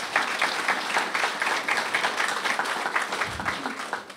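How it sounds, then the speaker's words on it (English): An audience at a district open house gives a big round of applause, many hands clapping continuously and evenly, loud and close throughout. "Can we give one big round of applause for all of our community organizations that are here today?"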